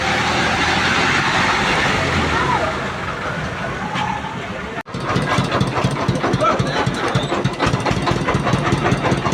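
A vehicle loaded with cattle on the way to the Khejurtala market drives past with a loud, rumbling engine. A brief dropout midway is followed by a harsher, rattling engine roar that runs to the end.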